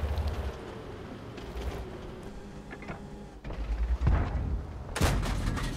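An M4A3E8 Thunderbolt VII tank fires its cannon in World of Tanks, with booming blasts among rumbling engine and battle noise. Sharp loud bursts land near the end.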